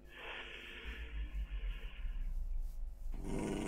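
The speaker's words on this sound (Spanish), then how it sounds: "Les digo perros porque hacen el sonido del perro" Dog-like creatures in a Minecraft modpack give low, rumbling growls and snorts, faint and continuous, ending in a harsher snarl.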